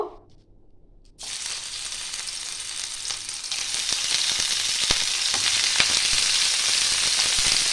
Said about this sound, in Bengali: এবার আমি ব্রোকলিগুলো ভেজে নেব।